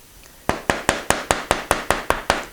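Steel chisel struck by a mallet while chopping out waste from a wooden dovetail, about ten sharp, evenly spaced knocks in a steady rhythm, close and fairly loud with no talk.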